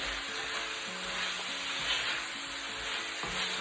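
Vegetables sauté in a hot pan, cooked briefly to stay crunchy, giving a steady close sizzle and hiss throughout with no talking.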